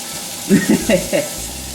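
Mushrooms sizzle in oil in a frying pan, a steady hiss running under brief bursts of talking.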